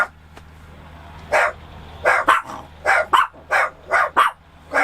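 A dog barks repeatedly near a parked motor home, with about nine sharp, loud barks in uneven bursts over a low steady background hum.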